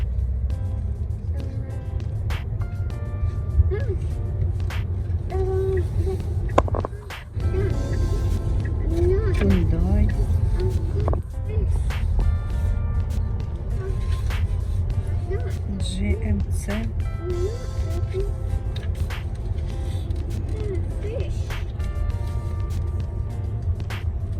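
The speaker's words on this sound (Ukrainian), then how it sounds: "Ого, скільки машин багато." Heavy traffic with many cars rolls past in a constant low rumble that fills the scene for the full stretch, while nearby people chat over it.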